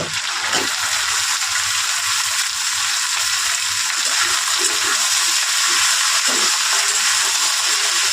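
Spiny gourd (kakrol) pieces frying in oil for a poppy-seed dish, a loud, dense, continuous sizzle with faint stirring scrapes underneath, steady throughout.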